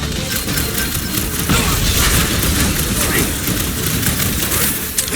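Rapid gunfire crackles and booms almost without pause from rooftop snipers in the Guardians of the Galaxy video game, dense and loud, with a louder burst near the middle.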